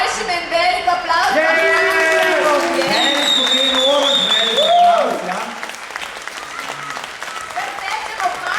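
Audience applause at a children's Christmas party after a performance by the youngest performers, loud and sustained, with children's voices and speech rising over it before it thins out toward the end.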